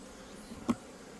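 Asian honeybees at the hive, a faint low drone of buzzing wings with one brief louder pass close by.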